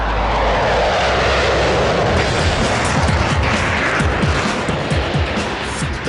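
Lockheed Martin F-22 Raptor jet fighter: a loud, steady roar of jet engine noise fills the whole stretch with dense broadband rumble and a low, throbbing pulse.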